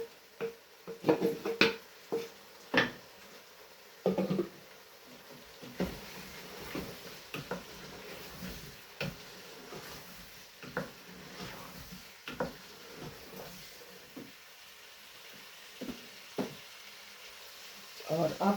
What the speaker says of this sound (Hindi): अब इसमें डाल देते हैं ये गोभी